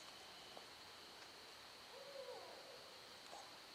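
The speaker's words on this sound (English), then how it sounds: "You heard the owl?" An owl hoots at night near a roadside curve, a few soft, distant calls rising over a quiet hiss of background noise with no voices.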